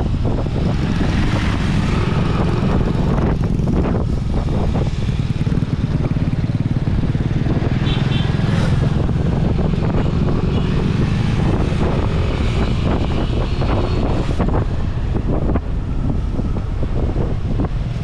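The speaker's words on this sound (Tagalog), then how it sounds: "Kabisado na rin Chungki yung kanyang motor." A boat motor drones loudly and continuously on choppy sea, mixed with heavy wind buffeting the microphone throughout.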